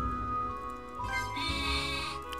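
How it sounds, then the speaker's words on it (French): Several video game sheep bleats from the RPG Maker game Lullabia overlap against a steady electronic background, with one louder, closer bleat rising near the middle. "très bien fait les bruits de moutons"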